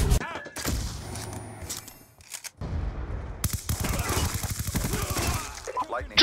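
Gunfire in a Call of Duty game: a burst of loud shots, a brief lull, then sustained rapid automatic fire that rattles on to the end, with game voices talking over it.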